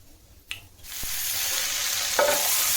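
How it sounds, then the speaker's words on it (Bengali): Bay leaf and mustard seeds dropped into hot oil for tempering: a sharp crackle and clatter at the drop, then a loud continuous sizzle with a brief stir scrape, close by and without voices. "এবার তেজপাতা আর সর্ষে ফোড়ন দিলাম"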